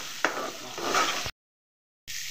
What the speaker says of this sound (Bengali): মশলাটাকে আমি কষিয়ে নেব যতক্ষণ না তেল সম্পূর্ণ চলে আসে